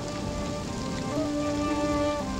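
Rain falls steadily in soft, even patter, with a faint sustained tonal hum running beneath it the whole time.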